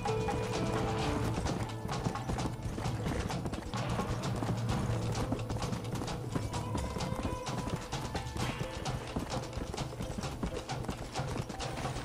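Horses in Red Dead Redemption clip-clop steadily, with a whinny or two mixed into busy game sound throughout.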